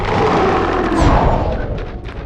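A Flipendo spell cast in the Harry Potter and the Chamber of Secrets video game: a loud, continuous booming rumble with a heavier thudding burst about midway, dense and close.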